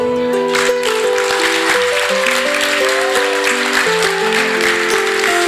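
Men clap for the mothers at a wedding, steady dense applause heard under loud sustained music filling the hall.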